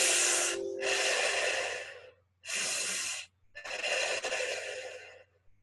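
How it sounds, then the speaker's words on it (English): Three long breaths are drawn in and blown out as if through a straw during a guided breathing exercise, each loud, airy and close, separated by short pauses. "the sucking breath is so breathing in through a straw"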